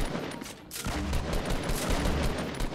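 Loud, continuous automatic gunfire in the Fortnite video game, a dense rattle of rapid shots close up with no talk over it.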